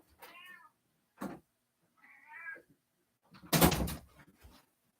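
A cat meows several times in separate short calls spread over a few seconds, fairly close and clear, with a louder rough burst near the end against an otherwise quiet background.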